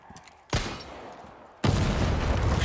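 A loud gunshot in Resident Evil 4 Remake aimed at a lock, an abrupt blast followed by a sustained roar, then a second even louder burst.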